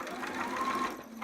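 A sewing machine runs briefly and steadily, close up, stitching around a seam and leg hole of a sitter romper, with a smooth whirring hum and no talking.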